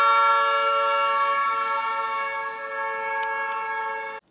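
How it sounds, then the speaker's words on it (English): A car horn holds one long, steady, loud honk as the car passes, its pitch dipping slightly partway through before the sound cuts off abruptly. "A common example is with sound waves, such as when a car honking drives past you."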